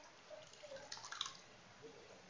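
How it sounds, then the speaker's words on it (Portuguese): Flaxseed gel drips and trickles through a strainer, a faint, quiet patter of a few soft drops and a brief wet run in an otherwise still room. "Agora, vou coar a linhaça,"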